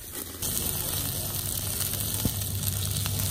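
Asparagus sizzles steadily in a very hot cast iron pan over a campfire grill at a lakeside campsite, a continuous close frying hiss with faint crackles.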